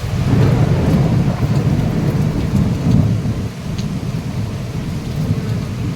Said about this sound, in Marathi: एवढा मोठा पाऊस येतोय